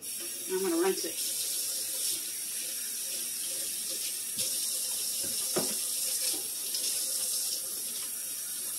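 Water runs from a kitchen sink faucet for rinsing, a steady hiss and splash with brief louder bursts and some soft handling sounds, quiet and close.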